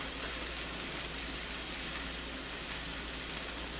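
Food sizzling steadily on a hot Blackstone flat-top griddle, a loud, even hiss with no pauses and no voices.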